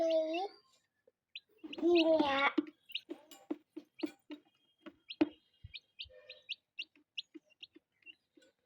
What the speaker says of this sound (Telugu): మా కోడి పిల్లలు